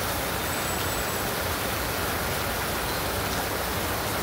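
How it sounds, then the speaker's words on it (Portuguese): Heavy rain pours steadily in Fortaleza, a dense, even hiss of drops hitting surfaces close by, with faint traffic rumble underneath and no voices. "começou a chuva aqui em Fortaleza de novo."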